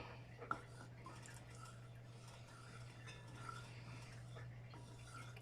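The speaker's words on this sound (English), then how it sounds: "So I'm going to stir this up a little bit." A spoon scrapes and stirs rice porridge with butter in a pot, giving soft, faint scraping and light clinks over a steady low hum, with one brief sharper knock near the start.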